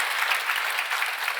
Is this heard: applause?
yes